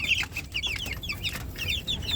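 Agilahas Bulik gamefowl cluck up close in quick, chattering bursts, with rapid repeated short calls over a steady low background rumble.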